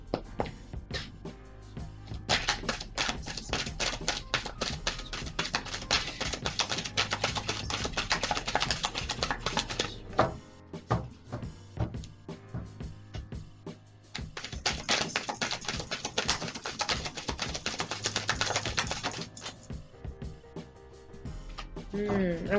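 Tarot cards are shuffled close by in two long runs of rapid, crisp riffling and flicking, separated by a break of scattered taps and softer handling.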